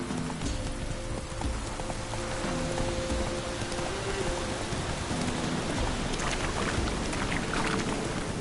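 Steady rain pours in the Witcher 3 video game, a dense continuous hiss of drops with some tonal game sound underneath, no talking.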